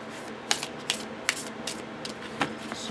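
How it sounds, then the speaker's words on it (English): Soft riffling and snapping of a tarot deck being shuffled by hand, several quick crisp card flicks in an irregular rhythm, close and fairly quiet. "Shuffle, shuffle, shuffle."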